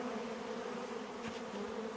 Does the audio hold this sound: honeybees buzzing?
yes